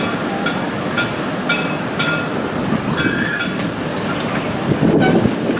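A small amusement park train, the Foghorn Leghorn's National Park Railway at Six Flags St. Louis, rolls past with rhythmic clickety-clack from the wheels, metallic clinks and a brief squeal, steady and fairly close, with no talking.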